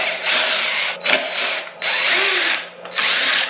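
A power drill backs screws out of a scooter in three bursts of steady, high whine, each run lasting under a second, with brief pauses between them. It is close and loud, and no one talks.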